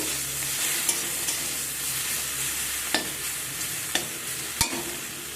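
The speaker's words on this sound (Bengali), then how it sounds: "শিম আর পেঁয়াজগুলিটাও আমার ভাজা হয়ে এসেছে" Broad beans and onions crackle in a frying pan with a continuous soft sizzle, punctuated by a few sharp clicks as a spatula knocks against the pan.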